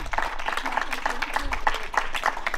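Audience applause at an outdoor peace song concert, a short burst of close, dense clapping with a voice speaking over it.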